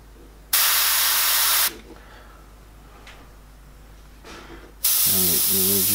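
An airbrush sprays paint in two close, loud bursts of hiss, each about a second long, separated by quiet.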